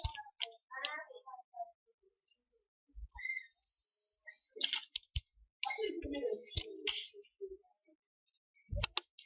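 A computer mouse clicks in short, scattered bursts amid quiet pauses, with sharp close clicks and some faint faster clicking; no talking.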